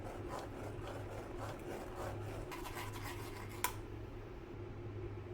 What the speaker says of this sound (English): Using a spoon, strain the puree well.